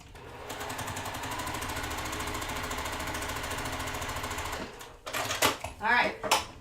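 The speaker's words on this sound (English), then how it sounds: "So now that we have that sewn, what does this look like?" A sewing machine runs steadily for several seconds stitching quilt block pieces, then stops, and a voice begins talking close by.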